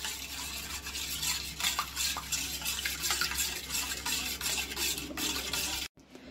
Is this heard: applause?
no